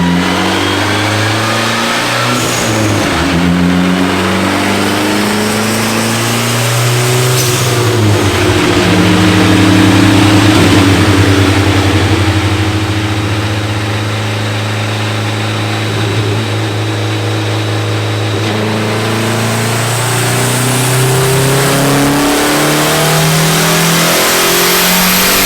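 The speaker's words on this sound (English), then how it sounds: "I'm like revving it and let it decel slowly and then revving it back" A freshly built car engine being run in to seat its piston rings, repeatedly revving up and then decelerating slowly; loud and close, the pitch climbing and sinking in long sweeps over a steady idle, with no talking.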